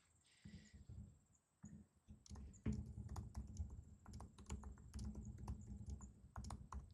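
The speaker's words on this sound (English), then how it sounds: "I just can't type today." Keyboard typing on a computer as a password is entered, bursts of quick clicking keystrokes with brief pauses, close and moderately quiet with steady room hum.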